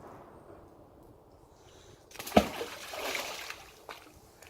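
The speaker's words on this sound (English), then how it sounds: "Does anybody else blink when the magnet goes in the water?" Heavy fishing magnet dropping into cold outdoor water, one sharp splash followed by a few seconds of sloshing and dribbling, fairly close and alone.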